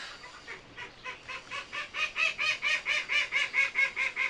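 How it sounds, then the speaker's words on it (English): Ducks quacking outside, a series of rhythmic nasal calls that grow louder and steadier, repeating about every quarter second, heard alone through a wall. "If you can hear my ducks out there."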